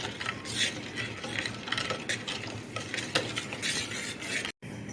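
Rose milk mixture stirred with a spoon, a steady scraping and clinking against the container that runs continuously, close and fairly loud, with a brief drop-out near the end and no talking.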